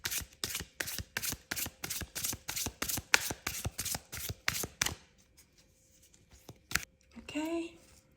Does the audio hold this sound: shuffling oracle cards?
yes